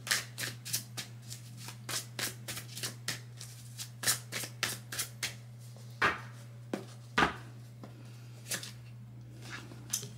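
Tarot cards are shuffled and riffled by hand in a quiet room, giving a series of sharp, irregular flicks and slaps over a faint steady hum, with no talking.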